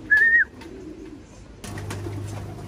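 Pigeons at feeding time give a short call up front, then low soft cooing hums along beneath faint background noise.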